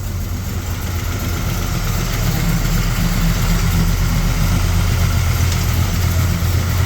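A 1965 Chevrolet Impala's 400 small-block V8 idles steadily with a low, even rumble close by, no talking, holding the same pitch throughout.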